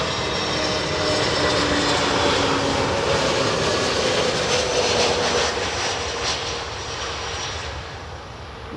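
A Frontier airliner's jet engines rumble and whine steadily as the aircraft passes near an airport in Miami, a broad loud roar that holds for several seconds and then eases slightly.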